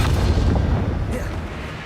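A loud Confringo blasting spell in Hogwarts Legacy erupts as a deep, booming explosion up close and then rumbles off over a couple of seconds.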